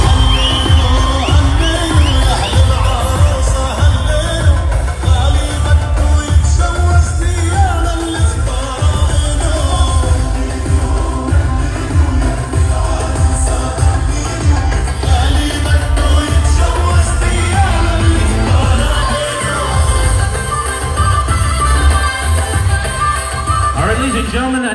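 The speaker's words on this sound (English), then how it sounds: "Big round of applause for Paul and Mary Eugenius." Wedding guests at a bride and groom entrance cheer, whoop and shout nonstop over loud pounding music, with a dense, energetic crowd roar running throughout.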